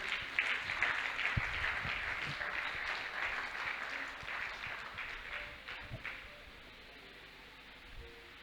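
A church congregation at a thanksgiving service breaks into sustained applause and acclamation for the Lord, with loud, dense clapping that gradually thins and fades toward the end, some voices mixed in.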